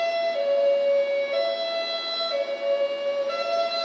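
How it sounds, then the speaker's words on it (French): Emergency vehicle sirens wail from a distance, a steady tonal cry wavering slightly in pitch and holding at a moderate level throughout. "Écoutez, les sirènes"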